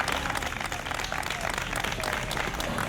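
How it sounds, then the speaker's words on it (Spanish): Residents of Estepona give a dense, sustained round of applause, close and loud, with many hands clapping at once and faint voices in the crowd. "se retiraron este martes entre aplausos de la población de Estepona"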